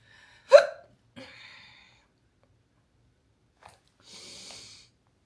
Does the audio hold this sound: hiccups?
yes